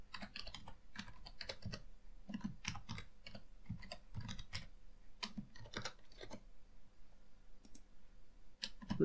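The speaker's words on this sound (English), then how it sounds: "Now let me type, for example," Keys clack steadily on a computer keyboard while code is typed, close and quiet, in uneven bursts with a short lull before a few final taps.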